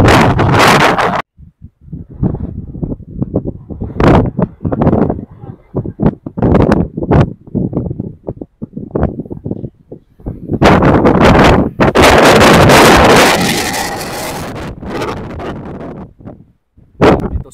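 Strong wind on a road near Mayon Volcano buffeting the microphone in loud, gusty bursts, with a voice talking between and over the rushes.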